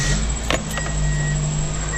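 A 2002 Toyota Echo engine is cranked and fires, settling into a steady, close, loud idle hum.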